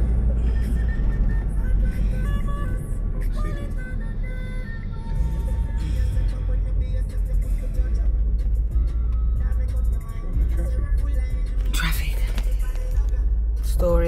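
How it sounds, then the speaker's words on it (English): Road traffic heard from inside a moving car on the way to Walsall Manor Hospital: a constant low engine and road rumble fills the background while people chat over it, with occasional louder passing swells. "Traffic. Story of our life."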